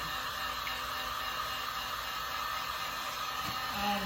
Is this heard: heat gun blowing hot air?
yes